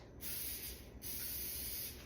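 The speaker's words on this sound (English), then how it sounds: "I'm going to spray it a little bit first." Cooking spray is sprayed into a baking pan for a blueberry coffee cake in two close, steady bursts of hiss with a short pause between them, and no voices.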